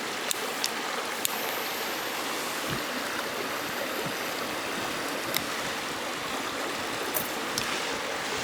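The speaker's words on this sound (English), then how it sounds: "I'm next to a creek" Steady rushing of a flowing creek, constant and unbroken, with a few faint clicks scattered over the water noise.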